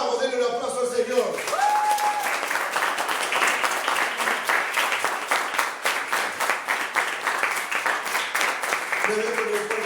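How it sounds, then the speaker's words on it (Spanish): Church congregation applauding during a Sunday evangelical service: dense, sustained clapping fills the room, loud and steady, with a voice briefly heard over it at the start. "denle un aplauso al Señor"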